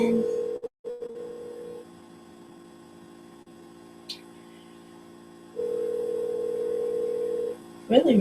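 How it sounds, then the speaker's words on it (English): A telephone ring tone sounds over a call line, two long steady buzzing tones separated by a quiet gap, heard through the phone with a constant electrical hum beneath. "It's ringing."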